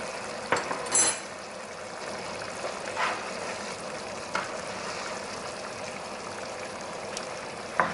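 Julienne strips cook in a pan with a continuous soft sizzle and bubbling, punctuated by a few sharp clicks and clatters of stirring, close and alone without talk.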